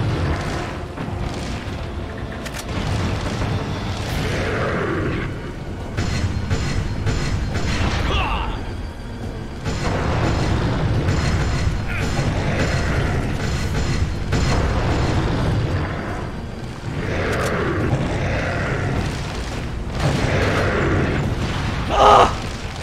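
Rocket launcher explosions in the video game Resident Evil 4 come as heavy booming blasts, loud and continuous, with rumbling low-end and mechanical clatter throughout, with no talk heard.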